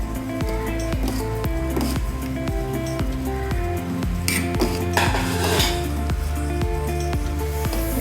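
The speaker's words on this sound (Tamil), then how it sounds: "கரைச்சி வச்சுருக்க மாவை இப்படி கொஞ்சம் கொஞ்சமாக ஊற்றி நல்லா கிண்டணும்." A utensil stirs dried ginger milk in a pan as flour batter is added, giving steady repeated scraping and clinking of metal against the pan, close and fairly loud with no voices.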